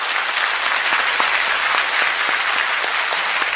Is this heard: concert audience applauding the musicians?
yes